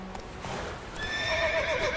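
A horse in the video game The Witcher 3 gives a single rising whinny over the muffled thud of hooves, clear and moderately close in the game's soundscape.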